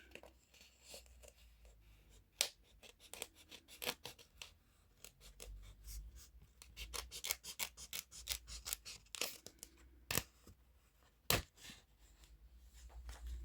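Scissors snip through paper in a run of crisp, irregular cuts, close and fairly quiet, with short pauses between bursts and no talking.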